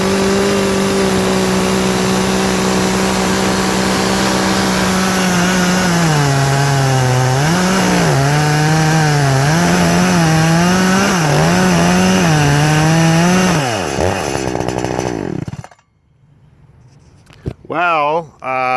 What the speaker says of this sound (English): I got the saw all back together. I have the 20-inch bar on here.